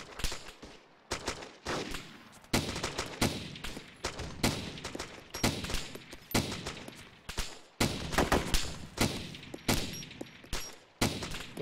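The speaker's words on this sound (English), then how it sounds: "No, they're shooting at me too." Gunfire in the Arma 2 Wasteland game crackles in repeated volleys of shots, loud, fast bursts and scattered single cracks rolling on without pause, with no talking over them.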